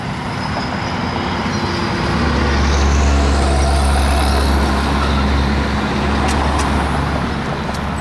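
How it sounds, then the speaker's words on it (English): A car passes on a city street near an intersection, its roar building to a loud, close peak and then fading, with traffic noise and a high tonal squeal near the end. "Got a car to wait for."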